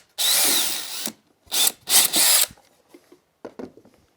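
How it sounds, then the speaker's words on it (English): A power drill bores a hole into a wooden kitchen cabinet box in several loud bursts, a long whir followed by shorter pulses, then faint clicks and handling noises as it stops. "We're going to drill a hole here and put a countersink wood screw in."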